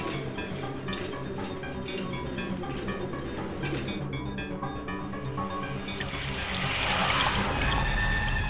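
Water poured from a jug makes a continuous splashing trickle that swells louder and fuller toward the end, with no voices.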